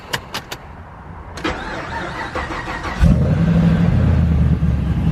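Mazda with a swapped LS V8 engine cranking and firing up, preceded by a few sharp clicks, then a whirring crank that catches into a loud, close, rumbling idle.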